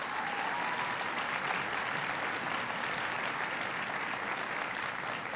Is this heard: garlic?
no